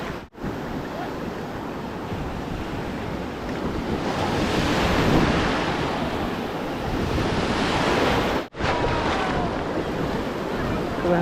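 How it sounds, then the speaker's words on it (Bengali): Continuous roar of ocean surf breaking close by on the beach at Bakkhali, West Bengal, with heavy wind buffeting the microphone throughout. "অতটা শক্তিশালী ঢেউ না"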